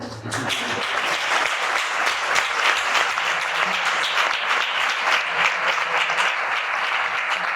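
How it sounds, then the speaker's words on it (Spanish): A book presentation audience in Utrera breaks into sustained, loud applause, dense rapid clapping filling the room evenly from start to finish. "que también pido un aplauso por ustedes, porque se lo merecen"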